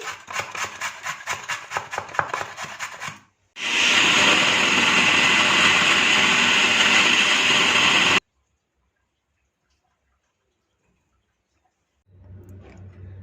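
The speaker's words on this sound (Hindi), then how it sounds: "गाजर को क्रश कर लेंगे" Carrots crushed in a grinder, starting with a rattling, pulsing chop, then a brief pause before a loud, steady high-pitched whirring that runs for several seconds, stops abruptly, and is followed by silence and a low hum.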